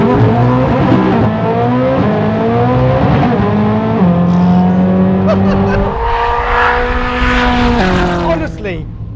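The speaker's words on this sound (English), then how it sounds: "the way this engine revs, it's like a really, really eager, naturally aspirated engine" A hypercar's eager, naturally aspirated engine revs hard and climbs through the gears, loud rising whines broken by quick upshifts, up close and dominating.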